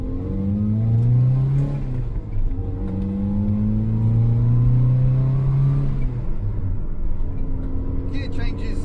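A Zastava Yugo 55A engine revs through rising and falling pitch sweeps while the car is driven, loud and close inside the cabin, with a brief dip near the two-second mark.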